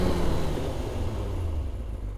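Motorcycle engine in first gear on a road, a steady low rumble with wind noise, continuous and close throughout with no voices.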